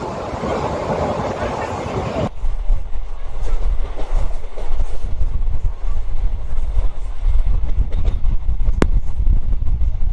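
A passenger train running from Sealdah to Rampurhat rumbles loudly and steadily, a continuous heavy roar with faint rail rattle and some wind buffeting, with talk briefly heard at the start.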